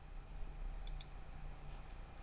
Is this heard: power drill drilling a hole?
no